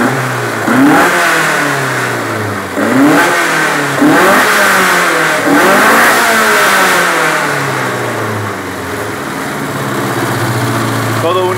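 A Datsun A14 engine fitted with Mikuni 40 PHH carburettors, on its first run, revs up loudly in repeated bursts, rising and falling several times before easing back toward a rough idle, close and dominant throughout.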